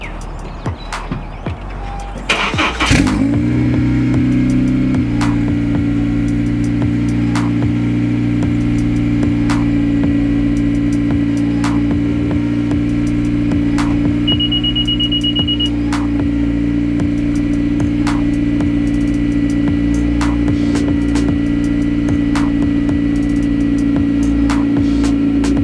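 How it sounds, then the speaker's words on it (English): A 9th-generation Honda Civic Si on its stock exhaust makes a cold start: a brief cranking burst, then the engine catches and settles into a steady, even idle that hums close by for the rest of the clip. "bless you guys with one more cold start on stock exhaust"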